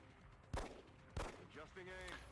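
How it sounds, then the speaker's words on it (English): In the video game XCOM, an overwatch shot fires at a charging sectoid: two sharp, loud gunshot blasts about half a second apart, followed by rising electronic whines and tones. "The final remaining sectoid charges and trips over Singe's Overwatch."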